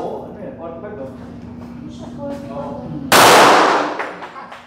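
A single loud gunshot at the ARMSCOR firing range cracks out sharply and rings down over a second, following a stretch of people talking over a steady hum.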